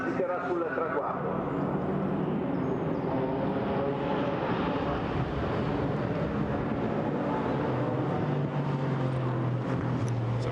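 An Aston Martin GT4 race car roars past the timing line at Monza during GT4 European Series qualifying, its engine a loud continuous drone shifting in pitch as it passes, with commentary talking over it throughout.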